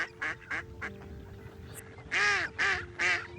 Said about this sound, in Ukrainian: Це дика качка.